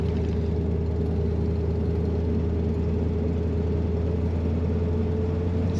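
A 1968 Chevrolet Corvette Convertible rumbles out of its tailpipe with a steady, deep droning exhaust note that holds constant and close throughout, with no voices over it.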